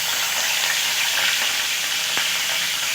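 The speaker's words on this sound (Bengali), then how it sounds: "ভালো করে ফোড়ন করে নিয়েছি" Nigella seeds and four slit green chillies sizzle in hot oil for a tempering, a bright, steady close hiss with one sharp clink of a spoon near the end, no voices.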